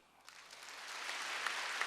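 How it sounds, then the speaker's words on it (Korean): A church congregation at a Wednesday service breaks into applause that swells steadily and keeps going, a dense wash of clapping from many hands. "박수 쳐줘요"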